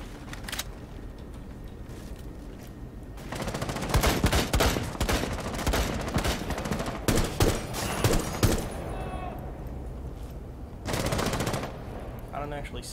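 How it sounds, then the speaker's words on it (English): Gunfire in Rainbow Six: Siege, fought in an airplane setting, breaks out in bursts of rapid automatic shots, loud and close, with pauses between volleys and a final burst near the end. "Get some rounds through, hopefully."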